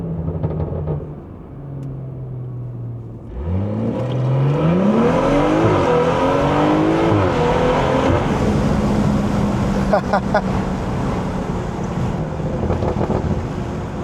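BMW 340i with the B58 engine pulling hard on the road, intake and exhaust rising in a loud sweeping rev climb that then settles into a steady cruising drone mixed with heavy wind rush.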